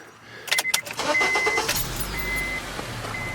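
A Ford Coyote engine in a 1955 Ford F100 truck idles quietly and steadily, with a low hum and a few clicks and taps near the start.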